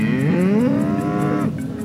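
A single loud, drawn-out moo from cattle on a southeastern Montana ranch, close and clear, rising then falling away with no voices over it.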